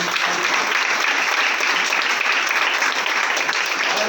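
An audience claps in a thick, even wash of applause that holds steady for about four seconds without talk.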